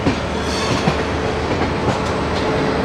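Aboard the Rajdhani Express as it leaves New Delhi, a steady loud rumble fills the carriage, with faint wheel clatter underneath and no voices.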